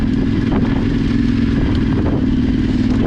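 A motorcycle rides through a rut on a rough track, its engine droning steadily and loudly throughout, with the bike rattling and clattering over the bumps.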